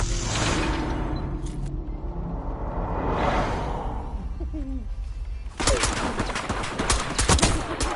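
Bursts of gunfire and whooshing effects from a hardcore Search and Destroy match in Call of Duty Black Ops 6, loud and dense near the end, with game sounds filling the space between shots.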